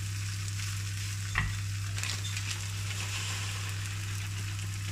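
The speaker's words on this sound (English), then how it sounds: "I've got just a bit of oil in there. So I'm just going to fry these off." Pork schnitzel frying in a little oil gives a soft, steady sizzle over a constant low hum, with a single sharp knock partway through.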